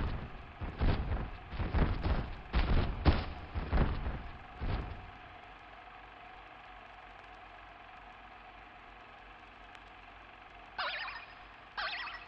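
Toy cannons fire in Kingdom Hearts 2, a series of booming blasts in the first few seconds, then a quiet lull before another short burst near the end.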